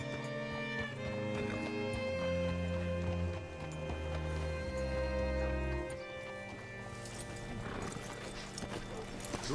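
Horse hooves clopping and a whinny in the Red Dead Redemption 2 video game, steady hoofbeats beneath a musical score, with brief voices and a rise of activity toward the end.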